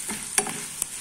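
Turmeric, spices and green chilies fry in a pan for tamarind pulihora, a steady soft sizzle broken by two short scraping stirs of a spoon, close and moderately quiet with no talk.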